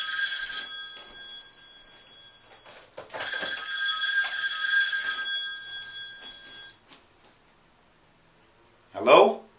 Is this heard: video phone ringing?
yes